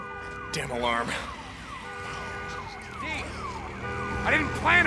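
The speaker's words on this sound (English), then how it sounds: "Damn alarm." Vehicle alarm blaring in the video game Days Gone, a repeating wailing siren-like tone that rises and falls over several cycles, with someone talking over it.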